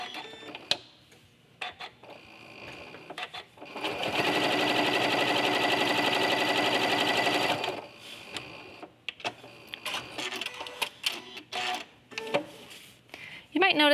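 Sewing machine quilting two fabric pieces together quilt-as-you-go style, one steady, close run of stitching lasting a few seconds, framed by clicks, fabric handling and brief bits of talk before and after.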